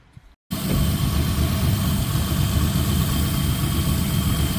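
Turbocharged Ecotec V6 car engine (L67) running steadily after a short quiet moment, a loud, dense, continuous idle drone up close with no talking.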